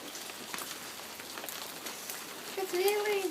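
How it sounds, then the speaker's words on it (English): Hailstones rattle down during a Southern California hailstorm in an even, continuous patter at close range, and a voice speaks briefly near the end. "It's hailing."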